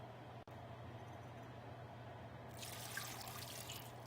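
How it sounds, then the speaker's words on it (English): Water is poured into a stock pot of chopped plums, starting as a soft, steady, fairly quiet splashing rush partway through after a near-silent hum. "I'm gonna add 1 1/2 cups of water."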